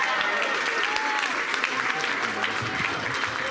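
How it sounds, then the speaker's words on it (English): Loud audience applause for the winning chef of a festival cooking contest, a thick continuous clatter of many hands with crowd noise and some cheering voices mixed in, steady throughout. "one big round of applause for our winner today, Chef Rhoda Magdipang"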